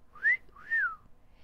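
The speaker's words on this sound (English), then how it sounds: "Holmes whistled." Two rising-and-falling whistled notes from a person, each about a third of a second long, loud and close, with a short gap between them and no talking.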